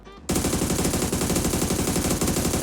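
Automatic rifle fitted with a muzzle brake fires a sustained rapid burst in PUBG, a loud dense stream of shots starting abruptly after a brief quiet moment and continuing without pause.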